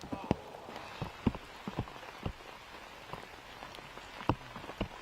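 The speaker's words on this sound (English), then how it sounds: "Rain getting to Gannonburg here" Rain patters steadily on a disc golf course during a tournament round, scattered close drops tapping over a soft continuous wash, with no talk.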